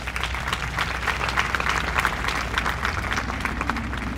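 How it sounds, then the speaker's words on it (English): Sustained applause from an audience at a city's State of the City address, a dense steady clatter of many hands filling the room with no break. "Give them another round of applause."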